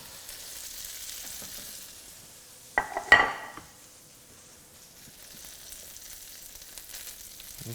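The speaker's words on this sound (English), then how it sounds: "And you know that it's preheated when it sizzles." Crab cakes go into a preheated pan of olive oil and butter over medium heat and give a brief, sharp burst of sizzling. It fades back to a faint, quiet crackle against a near-silent kitchen background.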